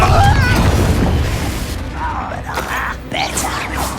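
The Confringo explosion spell in the Hogwarts Legacy video game lands with a heavy low boom, then crackles and whooshes into quieter bursts while voices talk in the background.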